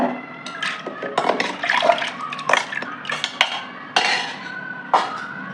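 Soaked dal drops into water in a pressure cooker with splashing, sloshing and metallic clinks at close range, each pour and stir coming in uneven bursts.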